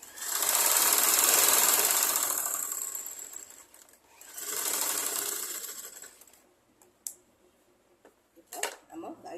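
A sewing machine stitches a blouse in two long loud runs, then stops, leaving a few short clicks and bursts of handling near the end.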